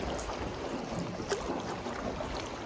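A boat moving across open water on a long ride, with a steady wash of water and wind noise, close and continuous, and no voices.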